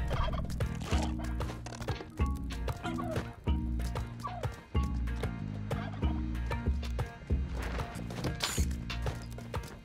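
Turkey gobbling from the video game Spelunky 2, repeated gobbles over a steady backdrop of loud, rhythmic game music that fills the whole stretch.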